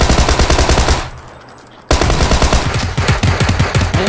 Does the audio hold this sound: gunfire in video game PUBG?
yes